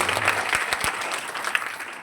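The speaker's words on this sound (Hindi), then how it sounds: "एक बार फिर से जोरदार तालियां बच्चों के लिए।" Applause for children at a school Independence Day (15 August) function, steady dense clapping from a gathered crowd filling the moment, with a few sharper claps standing out.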